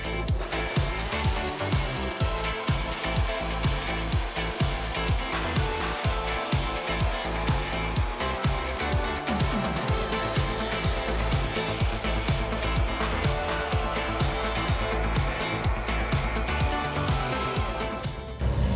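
A blender whirs loudly and steadily for the whole stretch, mixing Brazilian cheese bread batter in a kitchen, with no pauses and no talking over it.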